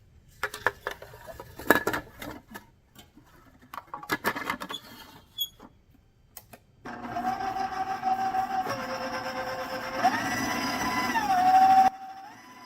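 An electric hand mixer whirs steadily as it beats eggs and almond extract into brown sugar brownie batter, close and fairly loud for several seconds after some clinking and tapping of bowl and utensils.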